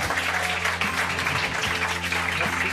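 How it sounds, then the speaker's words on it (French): Restaurant guests applaud the staff, their clapping filling a dining room with a steady wash of hands and voices murmuring underneath. "On peut applaudir Adèle."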